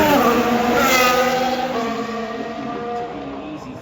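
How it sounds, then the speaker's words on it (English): A race car at full throttle on the Las Vegas Grand Prix street circuit, a loud, sustained engine howl with strong rising harmonics that eases slightly near the end, heard alone. "Full throttle, no lift."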